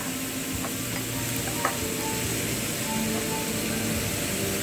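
Curry leaves dropped into hot oil with onions for Sri Lankan chicken kottu, giving a steady, close sizzle with faint stirring clicks throughout.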